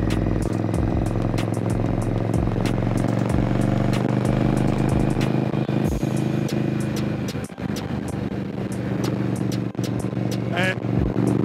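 An Indian Scout motorcycle engine rumbles loud and steady throughout, with a strong low harmonic drone and brief surges as the throttle is worked, heard close without speech.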